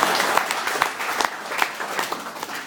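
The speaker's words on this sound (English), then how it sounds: "You can clap if you want." Audience applause after a book talk, a steady wash of many hands clapping with a few sharper individual claps standing out, moderately loud and continuous for a short stretch.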